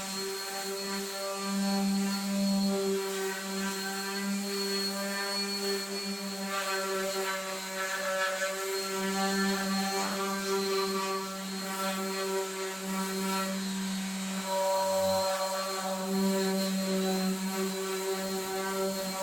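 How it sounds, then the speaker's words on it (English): A random orbital sander fitted with 120-grit paper works over wood pieces, giving a steady, close electric whine with a droning hum that shifts slightly as pressure changes. "So I've just got some 120 on our random orbital sander."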